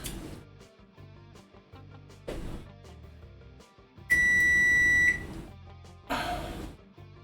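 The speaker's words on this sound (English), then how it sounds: "you heard my oven just beep just there" A kitchen oven timer beeps in a home cooking setting, a single loud sustained electronic tone lasting about a second, standing out over quieter kitchen clatter and muffled bumps.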